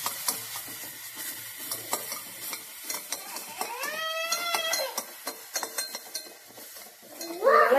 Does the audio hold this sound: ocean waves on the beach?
no